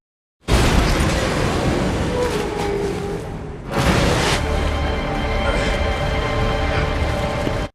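A loud bomb explosion in a film, set off at sea, roars out, followed by a second heavy blast that rumbles on into sustained, dense noise.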